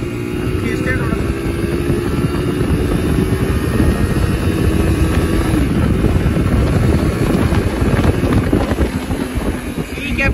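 Yamaha YBR125 motorcycle riding on a road in third gear, its engine droning steadily and close with heavy wind buffeting the microphone throughout.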